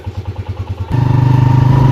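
A motorcycle engine runs loudly and close, a steady pulsing idle that suddenly revs up into a denser, rougher drone as the bike rides along a road.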